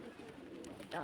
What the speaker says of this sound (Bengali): আর এখানে কবুতর আছে প্রায়